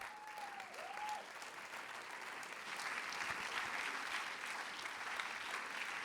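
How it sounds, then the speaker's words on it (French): An audience at a film festival closing night applauds the youth jury with a dense, steady wash of clapping that swells slightly and carries on throughout, heard from a distance, with a short whistle near the start. "On les applaudit."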